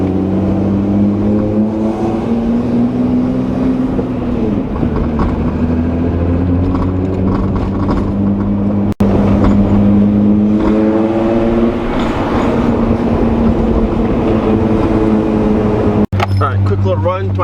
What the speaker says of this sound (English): 2 loud VR6s, ripping on some roads